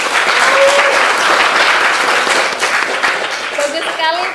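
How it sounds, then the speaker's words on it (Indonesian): An audience at a campus Islamic talk breaks into loud, sustained applause, a thick clapping wash near and full throughout, with a brief voice surfacing near the end. "Boleh tepuk tangan dulu sama."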